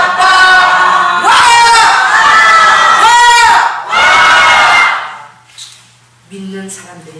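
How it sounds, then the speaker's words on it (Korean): Congregation at a Korean worship rally shouts repeated loud collective victory cries in four surging waves, each a few seconds long, then fades to scattered quieter voices. "믿는 사람들의 주님을 의지하고 외치는 승리의 함성이에요"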